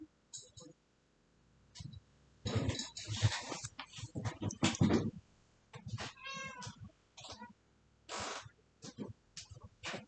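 A cat makes bursts of meowing and scuffling noises near a cooking pot, with irregular clusters of sound separated by quiet gaps, fairly close but soft.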